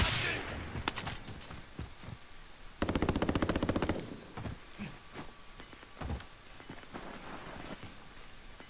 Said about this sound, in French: Me fais tirer dessus.